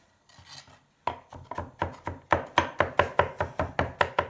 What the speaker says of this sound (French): Et après, vous venez couper comme ça l'ail